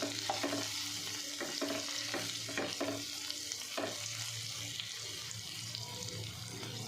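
Grated bottle gourd frying in a pan for a palya, stirred with repeated spatula scrapes and knocks over a continuous low sizzle, close up with no talking.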